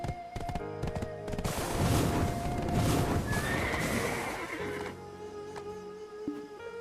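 A horse whinnying loudly in the video game Black Desert, a drawn-out neigh rising over clattering hooves and busy game sounds, then fading into softer background noise.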